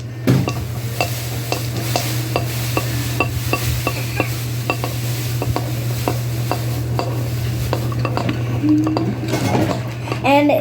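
Flour being mixed into homemade clay in a bowl, with a steady run of scraping, clinking strokes against the bowl over a constant low hum, occasional voice in the background.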